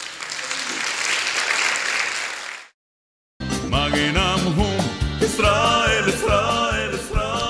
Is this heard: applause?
yes